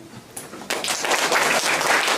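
Applause from an audience at a Korean agricultural talk concert, with a few scattered claps then a sudden swell into steady, full clapping filling the room, fairly loud and sustained.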